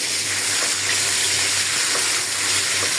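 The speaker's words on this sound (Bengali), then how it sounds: "রুই মাছ ভাজি করতেছি আর এদিকে বসাই দিতেছি তরকারি।" Rohu fish frying in a pan in a home kitchen: a steady, loud, close sizzle with faint crackling and spitting throughout, no talk.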